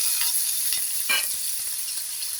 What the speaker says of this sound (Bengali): আলুগুলো দিয়েও আমি একটু এগুলোকে ভেজে নেব।